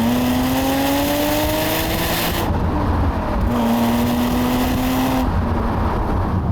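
A BMW Z3 M Coupe's engine revs hard through the gears, a loud close-up straight-six tone rising in pitch, dropping briefly at each shift, then climbing again with no talking over it.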